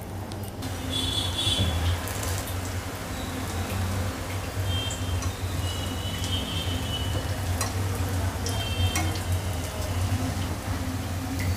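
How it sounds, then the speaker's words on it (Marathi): Sooji and potato cutlets fry in oil in a pan over medium heat, a steady, even sizzle with faint crackles, close and continuous with no talk. "आता आपण फ्राय करायला सुरुवात करूया."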